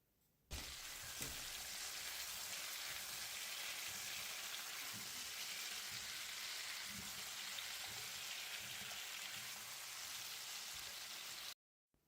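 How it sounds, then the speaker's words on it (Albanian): Potatoes sauté in a pan with a spoonful of oil, a steady, close frying crackle and sizzle that runs unbroken for about eleven seconds with no talking. "edhe vazhdojmë i kavërdisim patatet mirë."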